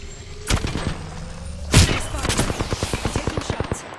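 Gunfire from Apex Legends, with a couple of heavy single shots followed by a rapid, evenly spaced burst of automatic fire that runs to the end, loud and close.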